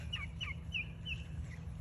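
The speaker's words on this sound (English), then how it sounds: "and all my birds having a great time" Backyard chickens give a short run of quick, bright clucks and chirps at close to moderate distance, about five calls over a steady low hum.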